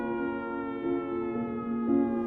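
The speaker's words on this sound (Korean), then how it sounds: "통금 해제를 알리는 사이렌 소리가 멀리서부터 청와대 뒤뜰 잔디 위로 부서져 흐르고 있었다" A steady wailing siren signalling the end of curfew sounds from afar, sustained and slightly rising and falling in pitch, with no other sounds around it.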